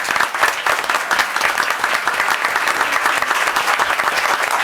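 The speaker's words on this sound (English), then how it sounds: "Let's give DeIsrael a round of applause." Audience applause at a Pasadena school board meeting, steady dense clapping from a crowd that continues throughout without talk over it.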